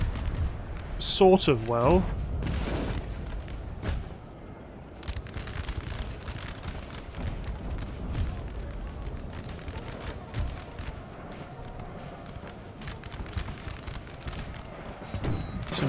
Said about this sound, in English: blast them with my canister shot, which we are doing